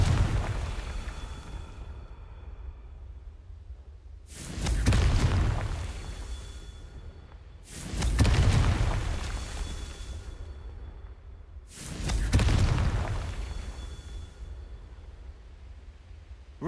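Confringo blasting spells from Hogwarts Legacy detonate as three big deep booms roughly four seconds apart, each a sharp loud blast trailing into a rumbling decay, with a faint first burst at the start and no talk.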